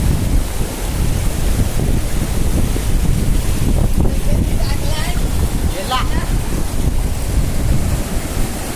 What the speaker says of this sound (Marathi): हवा पण मस्त सुटल्या आहे.